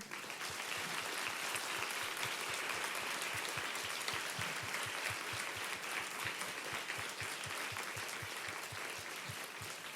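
Audience applause at a live French talk event, dense sustained clapping with a steady rhythmic beat running throughout, moderately distant and steady, with no talk over it.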